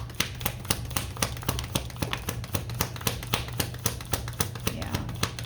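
Tarot cards are shuffled in quick, sharp, evenly repeating riffles and taps, close and steady against a low background hum, with no voices.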